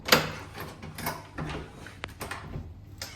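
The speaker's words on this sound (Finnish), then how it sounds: "Ovi lukkoon ensin." A hotel room door is locked by hand, giving a short run of mechanical clicks and latch clunks close by in a quiet room, with a sharp click near the start and softer thuds following.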